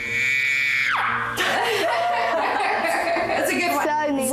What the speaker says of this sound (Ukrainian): Будь ласка, ах, це був мій крик.